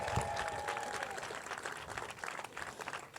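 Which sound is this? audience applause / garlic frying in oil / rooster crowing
audience applause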